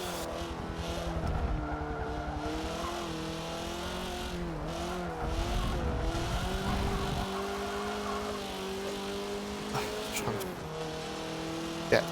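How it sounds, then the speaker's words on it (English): Forza Motorsport 7 race car with tyre chatter from the front wheels, a steady droning engine note rising and dipping through gear changes, with faint scrubbing tyre noise underneath. "Imagine that tyre chatter is coming off the front wheels."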